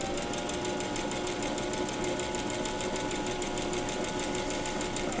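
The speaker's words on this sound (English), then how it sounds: "So same thing, start sewing, back stitch." Close, steady whirring hum of a sewing machine running continuously while stitching fabric strips to a quilt square, with an even rapid needle rhythm and no pauses.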